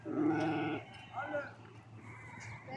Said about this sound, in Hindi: ये पता नहीं किस नस्ल का बकरा है